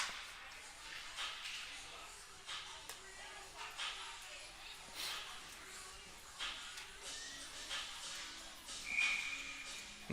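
At a 14U AA youth ice hockey game, a referee's whistle gives a short, sharp blast near the end. It cuts through rink noise, skate scrapes and a commentator's voice.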